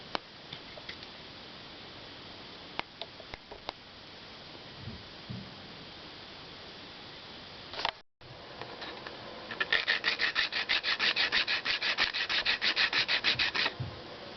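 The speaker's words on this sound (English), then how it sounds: "And I can still sand it, so seems like good stuff to work with." Hardened filler being hand-sanded: light scuffing and a few ticks at first, then a close, brisk run of rhythmic back-and-forth rasping strokes, with no talking.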